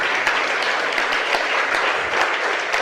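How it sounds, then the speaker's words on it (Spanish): A church congregation applauds during a worship service, a close, steady wash of many hands clapping that fills the whole moment without any speech. "Dale una ofrenda de palmas al Rey."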